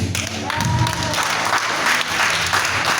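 A church congregation applauding and acclaiming the Lord during a worship service: dense, continuous clapping from a crowd, loud and sustained throughout, with faint voices mixed into the applause.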